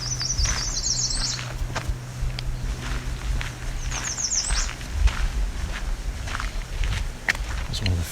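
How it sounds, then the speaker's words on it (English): An American Redstart sings its fast song twice, two quick high, thin bursts of notes a few seconds apart, moderately distant, over close footsteps and rustling in a quiet outdoor setting. "It's one of the faster songs of the American Redstart."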